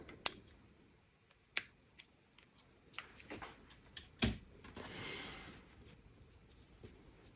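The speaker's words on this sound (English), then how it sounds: "Then you can give that a trim." Scissors snip crochet yarn ends on a scrunchie, a few separate quiet clicks and cuts spaced across the quiet stretch, with light rustling of yarn in between.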